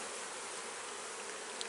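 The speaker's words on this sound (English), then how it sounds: "They are wall-to-wall bees" Honey bees crowd wall-to-wall across the frames of an opened hive, making a dense, steady buzzing hum that fills the space at close range without pause.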